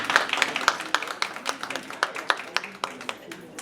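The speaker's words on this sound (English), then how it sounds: "let's give everyone a hand of applause for all the staff" People at a district budget town hall meeting clap for the staff, a moderate patter of individual hand claps with distinct sharp hits, modest in size and fairly quiet.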